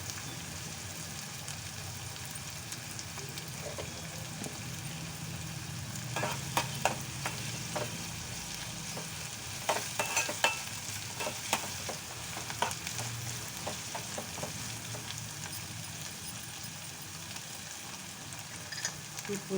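Tomato kurma with ginger garlic paste and mint leaves fries in a pan with a steady sizzle, punctuated by repeated scraping strokes of a spoon stirring the mixture at close range.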